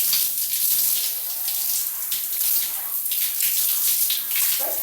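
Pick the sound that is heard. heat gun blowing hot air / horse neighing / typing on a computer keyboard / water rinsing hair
water rinsing hair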